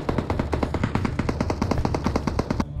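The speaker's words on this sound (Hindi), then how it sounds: "अब जैसा ही वो दिखा तो वहाँ पे गोलियां चली" Rapid automatic gunfire in the mobile battle-royale game BGMI: a fast, steady stream of sharp shots, loud and continuous for nearly three seconds before cutting off.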